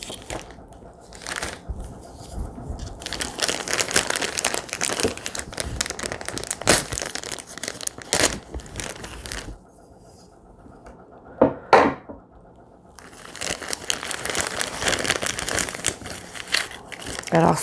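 An MRE accessory packet from a 2019 Australian military ration is torn and opened. Loud, close crinkling and ripping of plastic packaging continues through most of the clip, with a quieter pause in the middle and a few sharp crackles.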